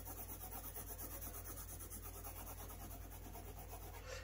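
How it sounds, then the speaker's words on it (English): A 9B pencil shades on paper in a steady, soft scratching rub that continues without pause, faint and close, with no talking. "So now you can just darken the neck with the 9B pencil"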